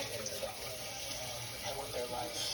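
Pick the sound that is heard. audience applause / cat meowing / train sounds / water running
water running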